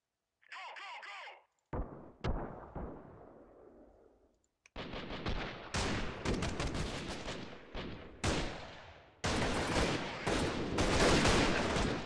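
Gunfire from the video game Freeman Guerrilla Warfare, with sharp sniper rifle shots and bursts of battle noise amid game sounds, loud and dense in the second half.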